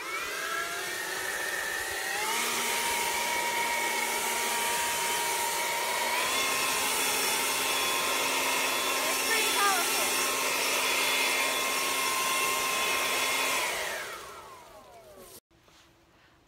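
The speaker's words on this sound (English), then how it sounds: "I am reviewing the Yardworks 48-volt AeroForce blower, which I put to the test by clearing the leaves off of my front lawn" A Yardworks 48V brushless AeroForce battery leaf blower clears leaves off a front lawn with a loud, steady whooshing whine close by. The pitch shifts slightly partway through, then the blower winds down and cuts off near the end.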